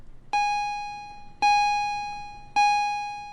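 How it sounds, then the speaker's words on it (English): A doorbell-like bell chimes three times at a steady rhythm, each clear ringing strike fading slowly before the next, in a quiet setting with no talk. "The bell rang."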